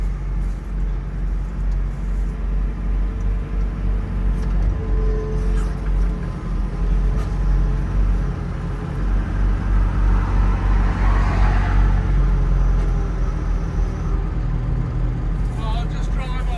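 A Massey Ferguson tractor engine runs steadily and loudly close by throughout a hedge cutter accident recovery, a constant low rumble with people talking over it.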